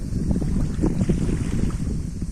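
Wind blows steadily by the water on a cool summer day, producing a continuous rushing, buffeting noise close to the microphone, with no voices.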